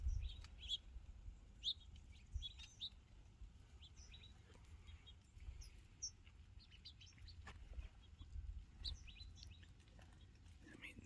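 Little sparrows chirping outdoors about six feet away, a scatter of quick, bright tweets coming in loose bursts over a quiet low rumble of background noise.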